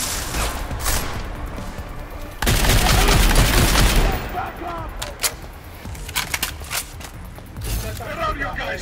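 Rapid gunfire in the video game Deus Ex: Mankind Divided: loud, dense bursts of shots crackling in quick succession, with a heavy volley near the middle, mixed with game effects and someone talking over the action.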